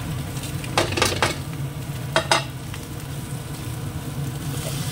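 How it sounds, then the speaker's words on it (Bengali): Maggi noodles drop into a hot frying pan, giving a steady low sizzle at close range punctuated by two brief clattering bursts of noodles and utensil hitting the pan. "এবার দিয়ে দেবো ম্যাগিগুলো"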